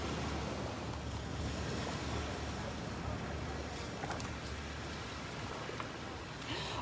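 Waves crashing against the side of a sailing ship at sea, a loud continuous rush of surf and wind that holds steady throughout.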